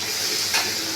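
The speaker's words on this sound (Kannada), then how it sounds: "ಸುತ್ತಲೂ ಎಣ್ಣೆ ಹಾಕ್ತಾರ ನೋಡ್ರಿ. ನೋಡ್ರಿ, ಫ್ರೈ ಆಗತ್ತ ನೋಡ್ರಿ." Fish sizzles and crackles steadily in hot oil, a loud, close, continuous frying hiss with a brief surge near the middle.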